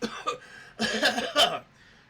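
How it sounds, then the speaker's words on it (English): A woman coughs several times in quick, husky bursts, close and fairly quiet, with no talking over it. "As she coughs."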